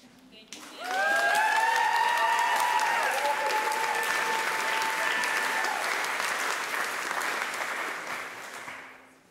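Audience applause after a choir recital, a dense burst of clapping that rises abruptly, holds strong for several seconds with a few sustained tones underneath, then tapers off.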